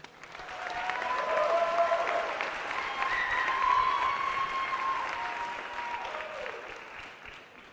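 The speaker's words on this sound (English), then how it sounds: "please give a big round of applause for Emily." Audience at a talk on marketing applauding a speaker named Emily, sustained clapping from a large crowd that swells and holds, then tapers off, with faint voices and tones mixed in.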